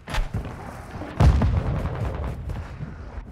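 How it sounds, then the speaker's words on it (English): Cluster mine explosions in the Call of Duty Modern Warfare II video game, a few short booms early followed by a heavy close blast and rumbling secondary pops that fade out. "Cluster mine deployed."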